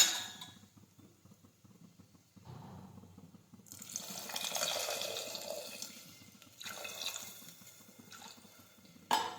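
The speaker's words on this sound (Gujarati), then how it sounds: "હવે આપણે થોડું પાણી નાખીશું." Water runs and splashes into a pressure cooker of spiced potatoes in bursts, with a steady stream swelling in the middle, near and moderately loud, with no talking.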